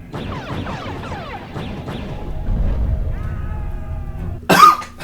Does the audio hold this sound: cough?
yes